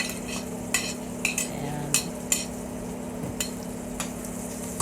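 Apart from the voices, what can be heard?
sautéing garlic in a pan for mung bean soup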